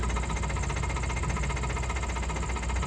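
Car engine running steadily during a driving lesson with the clutch held at half, a constant low close rumble and vibration with no breaks or talk.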